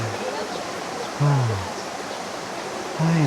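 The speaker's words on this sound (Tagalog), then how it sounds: "Tubig yan." Cold stream water runs with a steady broadband rush at a nature campsite in Magdalena, Laguna, continuous and fairly close, while a voice talks over it in short bursts.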